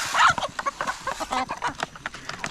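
A hen jungle fowl clucks close by in a rapid run of uneven calls, loud at first and then a string of shorter clucks.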